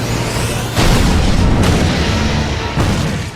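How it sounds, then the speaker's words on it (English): Celebratory fireworks in an anime battle scene from The Seven Deadly Sins, with loud, booming bursts and one more blast near the end over a steady rumbling bed. "These are celebratory fireworks! They mark the young master's retrieval!"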